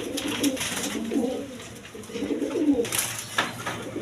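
A pair of pigeons kept with a chick coo in soft, repeated rolling phrases, close by and steady, with no voices.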